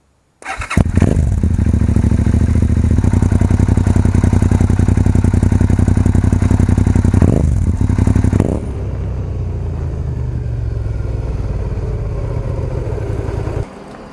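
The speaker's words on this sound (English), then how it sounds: "deep and throaty for a 650 so it's like a thousand with that exhaust on" A Suzuki SV650S motorcycle with an aftermarket exhaust fires up and idles loud and close with a deep, throaty rumble, briefly blipping the throttle before settling into a steadier idle.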